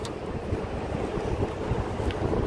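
Hot wind blowing outdoors in Kuwait, a steady rough rumble of gusts buffeting the microphone, loud and continuous with no pauses and no talking.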